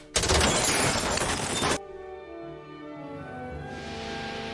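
A dense burst of rapid gunfire for about two seconds, loud and close, then cuts off to a lingering low rumble and tonal hum.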